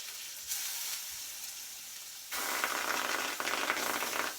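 Salted and peppered bay scallops dropped into a hot pan, a steady hiss that jumps to a louder, denser sizzle partway through, close and continuous, with no speech.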